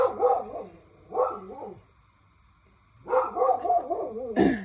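A dog barks in three short bursts of rapid yaps, fairly close, with a quiet pause between them and a sharper bark at the end.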